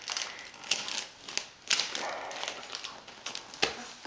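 Christmas present being torn open at home on Christmas morning, with several sharp crackling paper rips in quick bursts, close and fairly quiet, with no talk over them.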